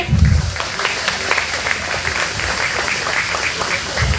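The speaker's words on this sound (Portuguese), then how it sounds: "Salva de palmas para o nosso parente." Applause from the audience at an Indigenous health conference panel in Brazil, a loud, dense wash of clapping that continues evenly across the whole stretch, with a few low thumps at the start and end.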